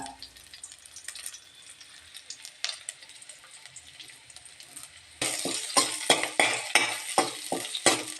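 Curry leaves, shallots and chillies frying in hot oil for a papaya masala curry, with a quiet hiss that jumps to a loud, steady sizzle broken by repeated scraping stir strokes.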